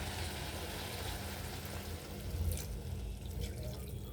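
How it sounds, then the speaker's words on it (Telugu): Water pours steadily into a cooking pot holding a simmering fish and ridge gourd tomato curry, a continuous close rushing splash with no pauses. "ఇప్పుడు కొన్ని వాటర్ యాడ్ చేసుకున్నా."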